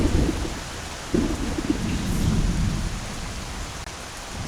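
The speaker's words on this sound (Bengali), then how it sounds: "বৃষ্টি কিন্তু মুসলধারে উঠিয়েছে" Heavy monsoon rain pours down steadily in a rural village, with deep rolling thunder rumbling beneath the dense, continuous hiss of the downpour. No voices are heard.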